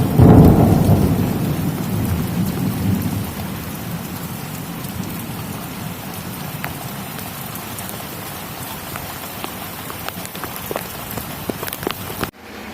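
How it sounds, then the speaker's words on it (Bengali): Heavy rain pours down steadily in Chattogram, with a loud rolling rumble of thunder at the start that fades into a continuous downpour. "আর দেখেন বৃষ্টিটা একদম শুরু হয়ে গেছে। এই যে বৃষ্টি"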